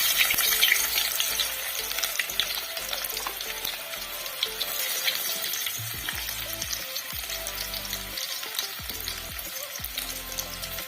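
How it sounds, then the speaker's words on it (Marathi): Chopped onion sizzles and crackles steadily in hot oil, with a dense, continuous frying hiss and scattered pops, close by and uninterrupted by any talk. "तेल गरम झालेलं आहे आपण ह्याच्यामध्ये कांदा टाकूया"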